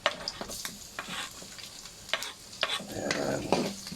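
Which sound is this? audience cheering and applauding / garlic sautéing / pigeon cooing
garlic sautéing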